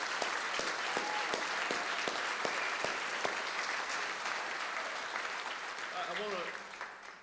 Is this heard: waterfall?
no